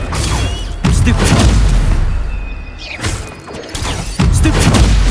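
Stupefy spell cast in Hogwarts Legacy, loud booming magical blasts with mechanical impact crunches, several bursts in quick succession amid game combat effects.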